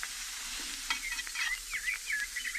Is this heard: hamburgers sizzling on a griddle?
yes